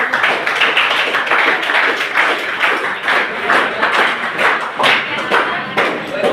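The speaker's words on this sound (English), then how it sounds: "Very good question, very good. Clap for this." Students in a classroom clap together during an English quiz lesson, rhythmic bursts of hand claps pulsing at a steady beat, with some voices mixed in under the clapping.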